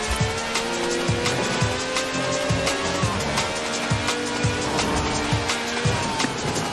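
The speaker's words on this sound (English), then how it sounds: "Just goes to show you can slide almost anything if you know how" A taxi fitted with a V12 engine of over 750 horsepower slides through corners in the Forza Horizon 4 video game. Tires squeal steadily over a loud, constant engine roar with rhythmic thumps.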